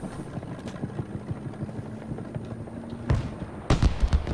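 A helicopter in the video game Battlefield V, heard during a battle in Firestorm mode. A steady, low rotor chop pulses in the background with a mid-range engine hum, and sharp gunfire or rocket bursts break in near the end.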